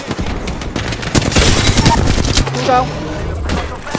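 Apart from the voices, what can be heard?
gunfire in the video game Apex Legends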